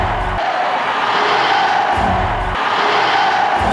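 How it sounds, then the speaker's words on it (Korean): Crowd shouting manse cheers in Korea at liberation in 1945: a dense, roaring wash of massed voices, steady and loud throughout, with a few low thumps underneath. "삼천리는 만세 함성으로 뒤덮였다"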